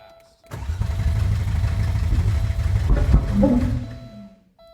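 A Porsche 964 engine cranks over fast on its first start attempt: a loud, close, rapid rhythmic starter churn lasting about three seconds, then stopping abruptly, with a brief mechanical noise at the end.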